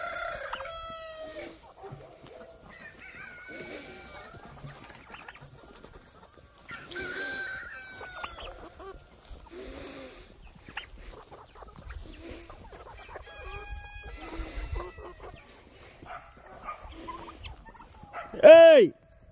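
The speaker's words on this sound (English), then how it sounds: "Leave those chickens alone!" Chickens and a rooster cluck and call steadily at a moderate distance in a farmyard, with faint voices mixed in, and a loud drawn-out crow rises near the end.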